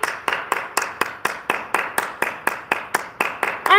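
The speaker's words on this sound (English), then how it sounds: "You hear me clapping?" A single person claps alone at a city council meeting, about fourteen sharp, evenly spaced claps in a steady rhythm, close and clear in a quiet room, with a brief voice at the very end.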